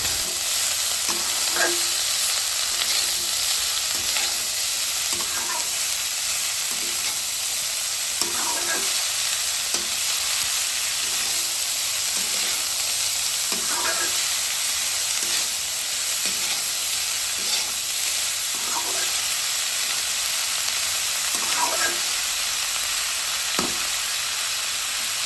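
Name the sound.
stirring cabbage with spices in a frying pan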